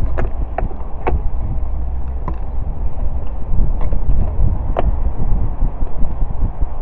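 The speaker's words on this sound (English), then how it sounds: "It's a bit windier today, so it might be harder for you to hear me." Wind gusting outdoors straight into the microphone beside a barn-find Volvo 480ES, a loud continuous low rumble and buffeting with a few faint clicks, no talking.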